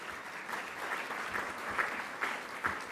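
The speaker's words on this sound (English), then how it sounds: "Let's give another round of applause to Luis Rosero" Steady audience applause fills the room at a leadership luncheon, a dense continuous patter of many hands with a few louder claps standing out.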